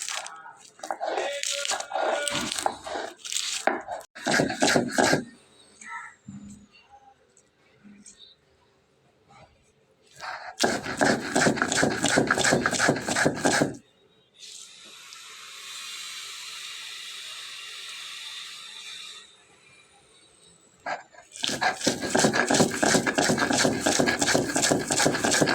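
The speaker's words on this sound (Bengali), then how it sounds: "তো ঠিক এভাবে মিহি করে বেটে নিতে হবে।" Chillies and onion ground to a fine paste on a stone slab (shil) with a stone roller, heard as loud bursts of repeated rough grinding strokes separated by quieter stretches and a steady hiss.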